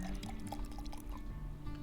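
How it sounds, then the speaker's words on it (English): Hot water poured into a tea mug with jasmine leaves in the Sugar & Spice Cafe video game, a continuous soft liquid fill over a steady low hum. "So you drop some leaves in, you add hot water"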